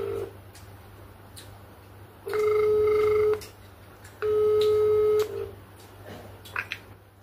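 An outgoing phone call rings back twice, each a long steady tone lasting about a second, separated by a pause, over a quiet room with faint background chirps.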